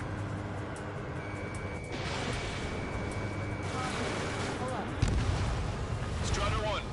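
A frigate blown apart by missiles in the jet combat game Ace Combat 7: dense, continuous roaring explosions and engine noise with a heavier low boom partway through, all loud and close.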